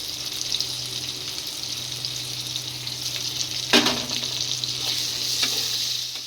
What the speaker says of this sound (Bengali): এই পেঁয়াজটাও হালকা করে একটুখানি ভেজে নেব